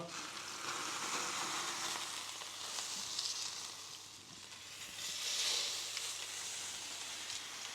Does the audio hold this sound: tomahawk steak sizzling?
yes